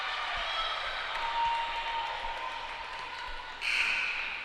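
A volleyball crowd at a women's college match cheers and applauds after a long rally, a moderate, fairly distant roar holding steady with a brighter swell of whistles or shouts near the end.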